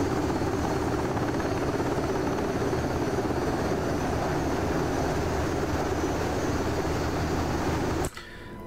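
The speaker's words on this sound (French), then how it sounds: "c'est un vrai bonheur cet hélicoptère" A UH-60L helicopter flying in the DCS World flight simulator gives a loud, continuous rotor and turbine drone that cuts off abruptly near the end.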